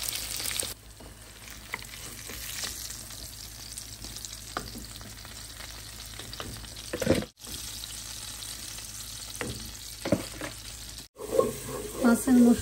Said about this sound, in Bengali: মাছের মশলাটা কষিয়ে নিচ্ছি